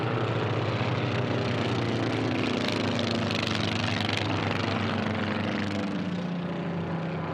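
A Formula One class racing airplane roars past the pylon microphones at an air race, a loud continuous propeller-engine drone with a slowly falling pitch as it sweeps by close.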